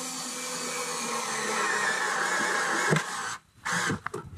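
A power drill whines steadily as it drives screws into a DIY reptile vivarium background, a continuous motor drone that cuts out briefly near the end and restarts with short bursts.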